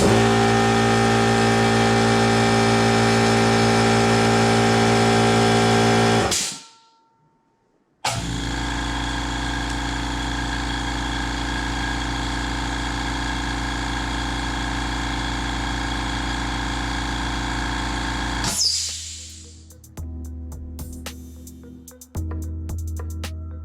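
A California Air Tools 4710 SQ air compressor and a louder compressor run with a loud, steady motor drone that cuts off abruptly, restarts after a brief silence and keeps running, then winds down into uneven mechanical clunks and rattles.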